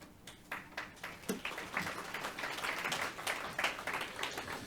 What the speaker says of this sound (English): The applause. I've got you folks trained well.